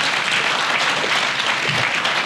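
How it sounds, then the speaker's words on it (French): A crowd at Bridge Bank's 2019 company party applauds a certification announcement, dense and loud sustained clapping filling the room throughout. "ça mérite un gros applaudissement"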